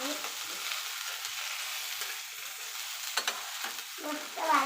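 A veg sandwich fries and toasts in a pan, giving a steady, close sizzle throughout with a few soft stirring scrapes and no talk.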